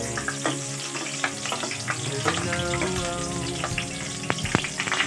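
Garlic fries in hot oil in a pan, crackling and spitting with dense sharp pops over a steady sizzle, close and loud, with a few utensil clinks and no talking.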